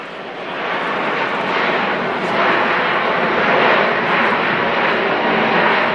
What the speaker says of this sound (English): this is the Alpha Max flyby at just over 100 knots